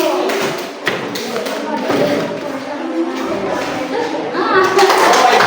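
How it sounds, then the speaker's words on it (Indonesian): An audience applauds a presenting group at a teacher training session, a dense spell of clapping and thumps running through the whole stretch under a mix of voices and chatter. "Kasih aplaus lagi kelompok 1."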